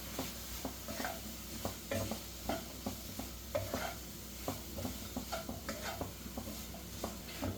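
A spoon stirs mushroom rice ingredients in a pan in quick, irregular scrapes and taps over a low sizzle, close and fairly quiet, without speech.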